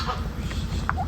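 Several geese honk and gabble close by in a quick, overlapping burst of calls.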